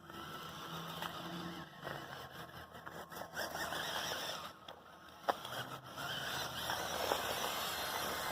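A Lego Technic Land Cruiser 79 model driving at full speed on flat ground, a faint, fluctuating electric motor whine with small squeals and a brief knock, fairly quiet and distant.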